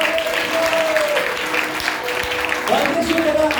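Church congregation at a Sunday service clapping steadily, a continuous wash of applause lasting a few seconds while a voice speaks over it.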